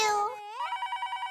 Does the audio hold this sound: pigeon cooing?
no